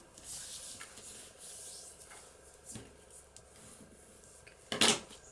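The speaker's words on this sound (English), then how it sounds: "And we can fold that over. And burnish it." Paper being burnished along a fold for a papercraft project: soft, faint rubbing strokes at close range, ending in one brief louder scrape.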